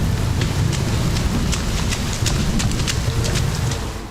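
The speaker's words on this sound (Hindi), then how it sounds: "पर्वत पर कदम रखते ही बारिश शुरू हो गई।" Steady rain begins to fall on a mountainside among large rocks, with a dense, continuous patter and scattered sharper drops that stays even and fairly close for the whole stretch, with no voices.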